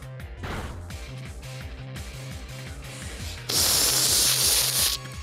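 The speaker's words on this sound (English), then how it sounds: "I'm spraying on the whipped cream on the top" Whipped cream is sprayed from a can onto an ice cream sundae, one steady hiss lasting about a second and a half over a rhythmic, clicking mechanical beat.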